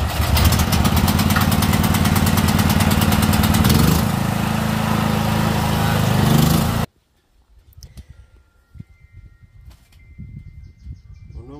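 A Stanley petrol generator engine runs loud and steady after a manual pull start, its pitch shifting slightly partway through, then cuts off abruptly, leaving faint scattered knocks and handling sounds.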